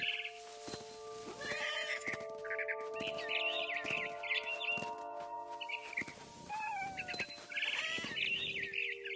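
Barn swallow chirping outside a window in the game What Remains of Edith Finch, with bright bird calls scattered over steady tones and repeated plucked hits, moderately loud, no talking.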